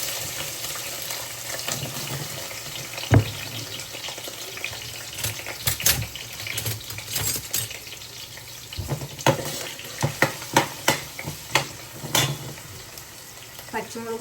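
Garlic and onion frying in hot oil give a low steady sizzle, with sharp clatters and stirring knocks of a utensil growing more frequent toward the end; a voice talks faintly underneath.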